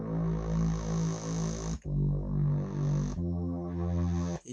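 An analog synthesizer plays sustained, buzzy notes whose filter envelope swells open gradually on each of three held tones, each separated by a short break.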